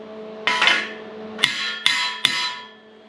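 A hammer smacks a TIG weld on a steel end cap of a ute tray being fabricated for a Toyota Landcruiser, four close, loud ringing metallic blows, each leaving a bright decaying ring.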